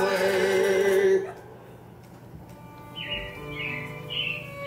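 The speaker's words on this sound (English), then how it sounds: "It looks like the Robins are getting ready to celebrate Valentine's Day today." Recorded robin chirps play as a show effect in the Carousel of Progress attraction at Magic Kingdom, a few short bright tweets after loud music cuts off, set against a quiet hall.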